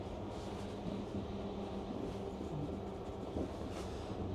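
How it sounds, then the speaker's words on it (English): Steady low rumble and rattle inside a moving train carriage on a line toward Basingstoke, with continuous wheel-on-rail noise and faint clunks throughout, no voices. "I'm on a train and the first stop is Basingstoke"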